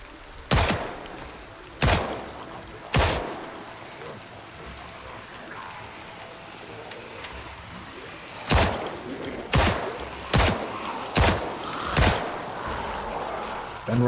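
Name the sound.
gunshots from the video game Project Zomboid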